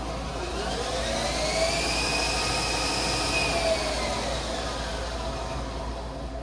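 A new 2008 HAAS TL-3 CNC toolroom lathe with its spindle running at 1,800 rpm, giving a steady, loud mechanical whir and hum that holds even throughout, with no talk.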